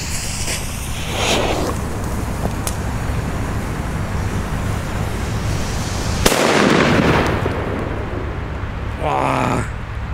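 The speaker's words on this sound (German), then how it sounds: "Richtig krasser P1 Böller" A heavy P1 Böller firecracker, the Chiarappa from Pyro Union with a pre-burner fuse, goes off in one loud, sharp blast at an outdoor New Year's Eve fireworks session. Steady background noise runs before and after, with another crack near the end.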